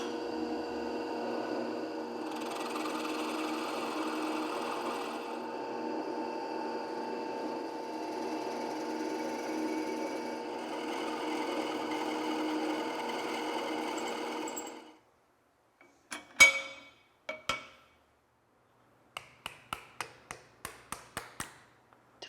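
A 5/16 inch bit drills a steady, continuous whine through a brass rod for about fifteen seconds, then stops, followed by sharp, scattered metallic taps and clicks at the end.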